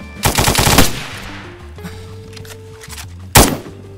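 Gunfire in the video game DayZ: a rapid burst of loud automatic shots up front, then a lull with faint mechanical hum and tones, and a single loud shot near the end.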